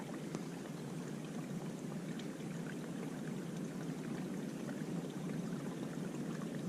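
Ice-cold stream water is squeezed through a portable water filter on the Appalachian Trail, a soft steady trickling pour that stays faint and continuous throughout, with no voices.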